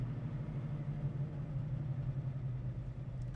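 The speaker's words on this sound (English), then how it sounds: "There's the car at idle." A 1971 Chevrolet Chevelle engine idles smoothly and steadily with a low, even rumble, quiet and alone without voices.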